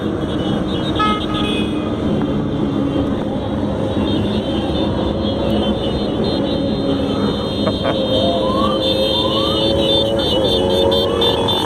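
A dense crowd of motorcycle engines roars and revs nearby at a huge motorcycle rally of more than 60,000 bikes, with horns tooting repeatedly over the continuous loud rumble.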